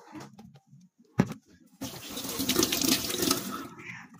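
Water from a sink tap running for face washing, a few soft clicks and a short knock, then a steady close rush of flowing water filling the rest of the clip, with no speech.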